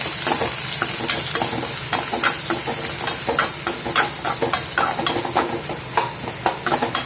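Onions and green chillies sautéing in a pan, with a loud, continuous sizzle and a dense run of quick spatula scrapes and taps throughout. Close, with no talk.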